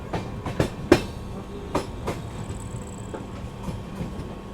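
Poorvottar Sampark Kranti express passing through Mansi Junction without stopping, its wheels beating a loud clickety-clack over rail joints in close rhythmic bursts, with a steady rolling rumble and a faint high whine between the beats, no voices.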